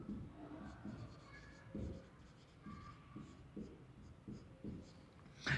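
Marker or chalk strokes scratch across a classroom board in short, separate bursts, faint and close, with a quiet room behind and no speech.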